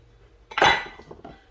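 Ceramic bowls being sorted in a kitchen give one sharp, bright clink close up, followed by a few softer knocks as they settle.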